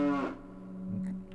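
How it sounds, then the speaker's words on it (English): A cow in The Legend of Zelda: Ocarina of Time lets out a single drawn-out, low moo, heard alone and fairly close. "look, a cow."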